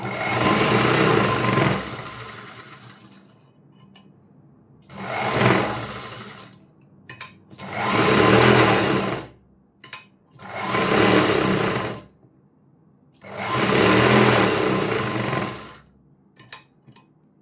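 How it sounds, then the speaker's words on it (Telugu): Sewing machine stitching the lining of a blouse runs in about five loud, steady bursts of whirring, separated by short pauses with small clicks. "ఇప్పుడైతే ఇలా మొత్తం స్టిచ్చింగ్ చేసుకోవాలి."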